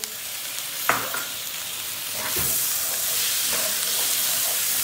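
Tomatoes tossed into sizzling tomato paste and stirred, a steady loud frying hiss swelling midway with scraping stir strokes over it.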